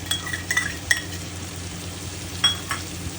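Onion, tomato and coconut paste fry quietly in a pan with a soft sizzle while a spoon stirs and clinks against the metal a few times, with no talk.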